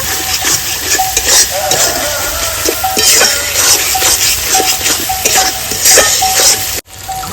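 A paste of ground dried chilli, turmeric and salt fries loudly in a pan for village-style chicken curry, with rapid rhythmic scraping strokes of a spatula over a dense sizzle, briefly dropping out near the end.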